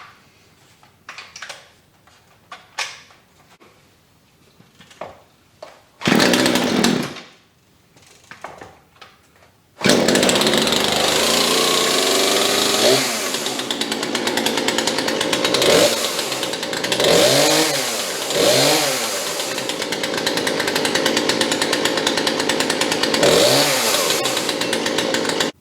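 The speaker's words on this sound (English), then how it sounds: "We're going to see if this thing's going to fire up for us." Poulan chainsaw fitted with a HiPa carburetor is pulled and fires briefly, then starts and runs loud and close, idling with repeated revving surges that rise and fall several times.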